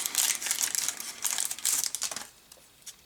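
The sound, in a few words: opening a Dragon Ball Super card booster pack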